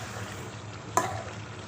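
Garlic ginger paste frying in a pan for chicken biryani, a steady soft sizzle with one brief stir or scrape clink near the middle.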